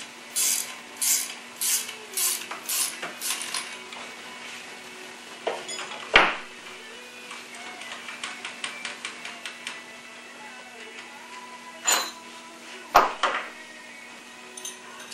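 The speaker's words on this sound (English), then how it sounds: "And then we'll be able to get the piston out." Metal clinks, taps and scrapes while the piston is worked out of a Turbo 350 transmission drum, with a quick run of rattling knocks, a few sharper bangs, and softer handling noises throughout.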